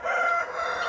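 A rooster crows in a farmyard of broiler and local village chickens, one sustained cock-a-doodle-doo ringing close and loud for the whole moment.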